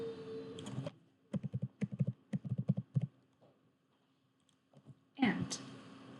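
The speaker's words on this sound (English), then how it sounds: "So I'm going to type here division." Quick bursts of clicky keystrokes on a computer keyboard, close and fairly quiet, come in an uneven rhythm between stretches of a person talking.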